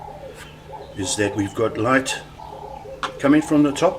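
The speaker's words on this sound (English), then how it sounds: "You can hear the birds in the background" Doves coo softly in the background while someone talks over them in the foreground.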